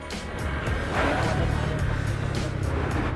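A Honda CB150 Verza motorcycle being ridden on a test ride, its engine droning steadily and close up with a brief rise in revs, along with wind noise.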